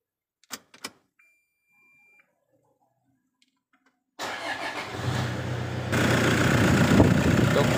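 A Toyota Innova diesel engine, stock and fitted with an upgraded automatic transmission, cranks and fires after a few faint clicks, then settles into a steady idle that grows a little louder and fuller, heard alone.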